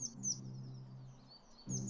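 Small forest birds sing in woodland, giving faint high chirps and short twittering phrases at the start and end, over a soft low steady hum.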